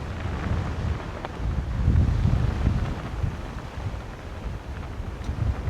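Wind buffets the microphone on a beach in Northumberland during fishing, a steady low rumbling roar with gusts that swell and ease, with no talk.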